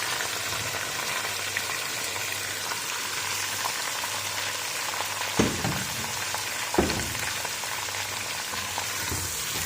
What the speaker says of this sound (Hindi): इसी मसाले में चिकन की अच्छी तरह से भुनाई कर देंगे